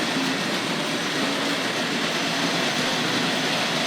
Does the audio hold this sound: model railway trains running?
yes